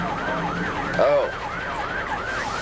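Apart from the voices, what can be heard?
emergency vehicle siren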